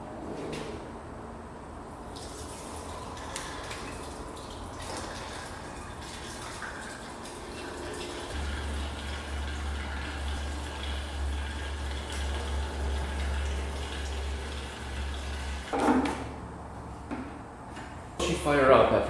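Gasoline pours into the tank of a 1987 Kawasaki Tecate 4, a 250cc two-stroke quad, as a steady liquid rush in the middle, surrounded by handling clunks and scrapes nearby, with someone talking.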